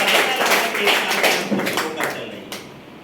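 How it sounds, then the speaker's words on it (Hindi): Lively applause from an audience at a 61st birthday book-launch event, a dense patter of many hands clapping that starts loud and gradually thins out over a few seconds. "इस बात पे बस जोरदार तालियां होनी चाहिए"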